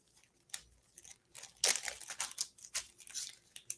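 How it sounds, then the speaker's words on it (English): A plastic bag holding mixed contents is shaken and moved about, giving irregular crinkling and rustling bursts, some loud and sharp, with no talk. "the plastic bag is going to allow you to just kind of move it around a little bit"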